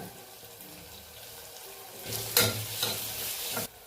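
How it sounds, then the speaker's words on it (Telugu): Ginger paste fries in a pan for a mutton curry, a soft steady sizzle with spoon scrapes and stirring strokes growing louder toward the end, no voices. "అల్లం పేస్టు వాసిన పొయ్యేంత వరకు వేయించుకుందాం"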